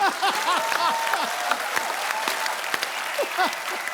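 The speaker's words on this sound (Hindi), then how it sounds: "जोरदार तालियां।" A studio audience on a comedy talk show bursts into vigorous applause, loud continuous clapping mixed with scattered whoops and whistles across the full stretch.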